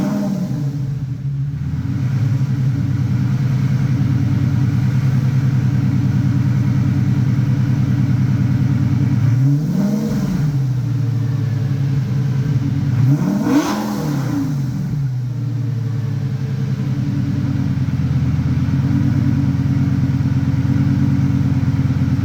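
A Lamborghini Gallardo V10 idles with a deep, steady rumble, broken by two sharp revs that rise and fall in quick succession, with no talking.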